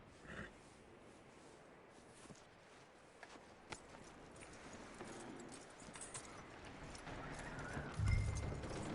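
A horse's hooves clip-clop at a walking pace in the video game Red Dead Redemption, faint and distant over a quiet outdoor ambience, with a small bump near the end.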